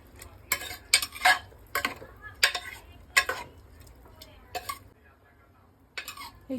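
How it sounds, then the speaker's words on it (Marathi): Rice and water being mixed in a pressure cooker pot for veg pulao: a spoon scrapes and clinks against the metal in about eight distinct bursts with quiet gaps between. "तांदूळ आणि पाण्यात सगळं व्यवस्थित मिक्स करून घ्यायचं आहे."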